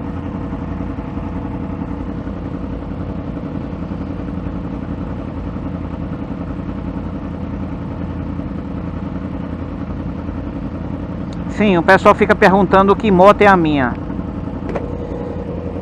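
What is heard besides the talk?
2016 R1S sport motorcycle engine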